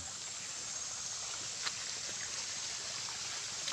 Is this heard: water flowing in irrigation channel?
yes